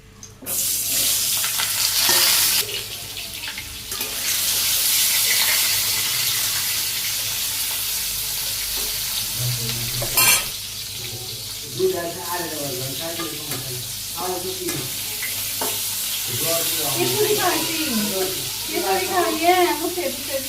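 Pointed gourd (potol) sizzles in hot oil in a wok, a continuous crackling hiss broken by stirring clatter, with a voice sounding over the frying in the later part.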